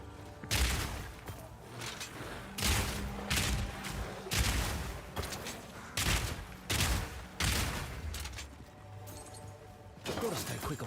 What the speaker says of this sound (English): Explosive grenade.